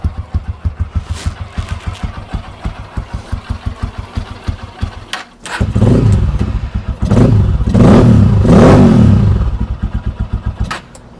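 A Honda XR150L motorcycle engine starts and idles with a steady, rapid thump, is revved hard twice with sustained roaring swells, then drops back to its pulsing idle; close and loud, with no talking.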